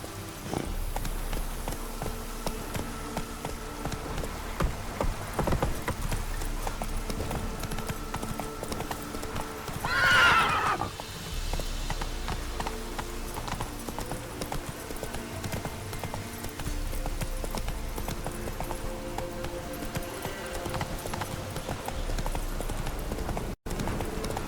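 Horse galloping in the video game The Witcher 3: Wild Hunt, steady rhythmic hoofbeats thudding over ambient game sound, with a brief snort or whinny midway.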